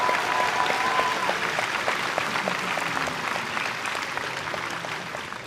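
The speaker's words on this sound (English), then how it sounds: "Let's give them another round of applause." A summer graduation audience in a hall applauds student speakers, with loud, sustained, dense clapping from a large crowd that fades slightly toward the end.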